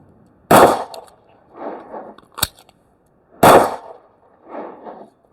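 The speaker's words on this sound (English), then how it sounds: "So I'm gonna shoot one, mag change, shoot another one." Beretta APX Centurion pistol fires two loud, sharp shots about three seconds apart, each with a short echo tail. A metallic clack of the magazine change falls between them.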